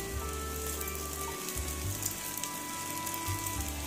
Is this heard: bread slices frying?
yes